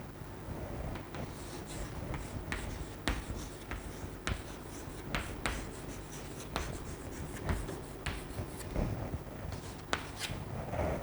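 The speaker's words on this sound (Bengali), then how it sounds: "সো আগে প্রথমে বাক্যটা লিখি চলো" Chalk or marker scratches out a sentence on a classroom board in short, close strokes and taps, a quiet irregular rhythm of writing with brief pauses between words.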